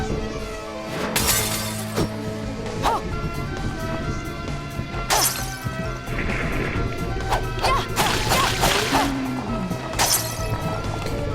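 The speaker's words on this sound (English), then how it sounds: "Classic Castlevania, smashing the lanterns." Lanterns shatter one after another in the game Bloodstained: Ritual of the Night, with sharp glassy crashes and whacks at irregular intervals over steady background music.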